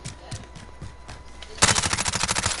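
MP5 submachine gun from Modern Warfare opening up in a sustained burst of rapid automatic fire, loud and close, after a quieter stretch of footsteps and game ambience.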